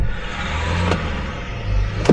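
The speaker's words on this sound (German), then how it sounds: "Wir haben auch ein Auto hinter uns." A car follows close behind a VW ID.7 on the road, giving a continuous engine and tyre rumble that swells slightly toward the end, with no voices.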